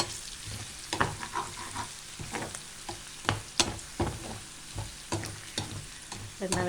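Tuna pieces frying in oil for fish pickle: a close, steady sizzle with repeated stirring scrapes and soft knocks of the spoon in the pan.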